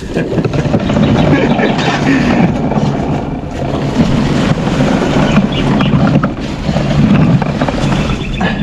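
A boat motor runs during a test, a steady, close engine drone mixed with gusting wind across the microphone throughout.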